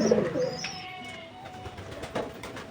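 Pigeons coo nearby, a low throaty call at the start followed by softer fluttering and shuffling sounds in a quiet space.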